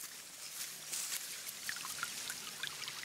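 Spring water flows at a catchment high in the bush, a faint, steady trickle and splash of running water with small droplet sounds and no voices.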